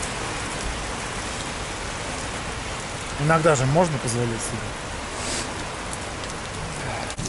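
Steady rain hisses throughout, a dense wash of falling water, with someone speaking briefly partway through.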